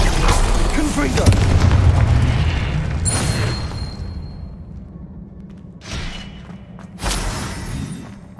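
A booming blast from the Confringo spell in the Hogwarts Legacy video game, a loud low rumble that decays slowly, followed by a couple of sharper bursts, with speech heard around it.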